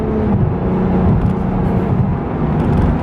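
A 2017 NSX supercar drops three gears and accelerates hard, its engine a loud, steady roar heard from inside the cabin, with no speech over it.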